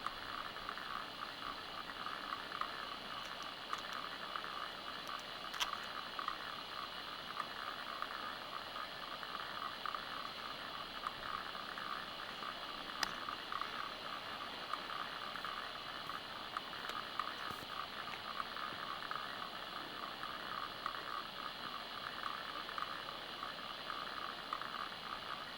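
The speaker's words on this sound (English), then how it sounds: "you can hear Second Falls all the way up here." Second Falls, a large waterfall, sounds from far up on Reinhart Knob in the mountains as a constant soft, broad rushing hiss that never changes over the whole stretch.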